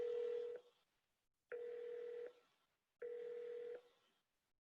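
Keypad tones from pressing an option in an automated phone menu: three steady dual-tone beeps, each held under a second with short gaps between, clear and close with no talking.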